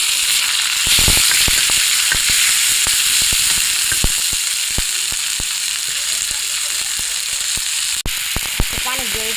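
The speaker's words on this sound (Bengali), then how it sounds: "পেঁয়াজটা আমার ভাজা হয়ে গেছে, এখন আমি আদা রসুন দিয়ে দেবো" Onion frying in hot oil with ginger and garlic added, a steady close sizzle running throughout, broken by repeated sharp clicks and taps of a utensil against the pan.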